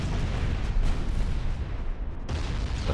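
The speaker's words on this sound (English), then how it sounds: "the big 16s on Bayezid Pasha can now fire at Revenge" Sixteen-inch battleship guns booming in a naval warfare game, a continuous heavy rumble of deep blasts with a brief lull before another surge.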